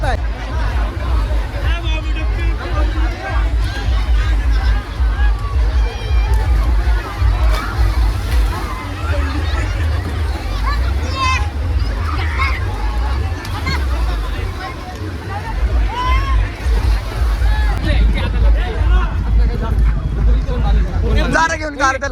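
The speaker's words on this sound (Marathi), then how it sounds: "तर या ठिकाणी तुम्ही बघू शकता नाशिककर किती जल्लोष करताय." A festive Rangpanchami crowd celebrates at the Godavari ghat in Panchavati, Nashik, with dense, steady babble of many voices, shouts and splashing water close around, continuous and loud throughout.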